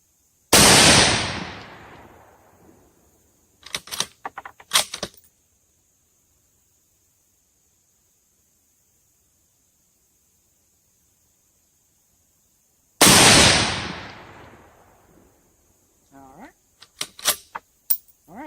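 A Mossberg MVP bolt-action rifle fed from its 10-round magazine fires two loud, sharp shots with decaying echoes, each followed by quick clacks of the bolt cycling, with a long silent pause between.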